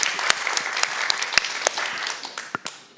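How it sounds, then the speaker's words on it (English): An audience applauds at a women's event, a round of scattered, crisp claps with individual hands standing out, gradually thinning and fading toward the end. "Give her a round of applause for that"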